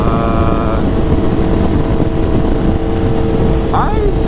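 A Yamaha R1 sport motorcycle idles and rumbles steadily up close, its engine note holding low and rough with slight surges as the bike is wiggled side to side, under wind noise, with no talk.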